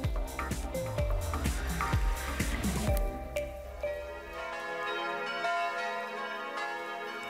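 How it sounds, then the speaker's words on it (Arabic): Church bells ring in a European town in May, a dense clangour of several bells striking together before fading into a long, shimmering ring-out. "تقرع أجراس الكنائس كثيراً في شهر مايو"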